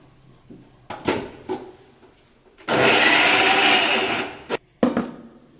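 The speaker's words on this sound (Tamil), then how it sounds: "இப்போ கேரட் வடைக்கு நான் ரெண்டு கேரட்டை நல்லா மிக்சியில் போட்டு அரைச்சிட்டு வரேன்" A mixer grinder blends carrots in one loud, steady burst of roughly two seconds, framed by thuds and knocks from handling the jar and lid before and after.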